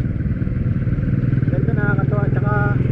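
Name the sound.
motorcycles being test ridden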